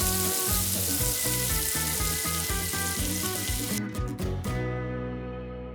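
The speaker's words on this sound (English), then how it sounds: "add the oil to the pan. Follow it up with the diced ingredients and gently fry these around for about 5 minutes" Diced ingredients gently frying in oil in a pan, a steady close sizzle running throughout with faint tonal background music, easing slightly toward the end.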